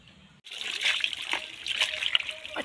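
Roasted goat skin is washed by hand in a village kitchen. Water trickles, splashes and splatters steadily for a couple of seconds, close by, with voices heard faintly underneath.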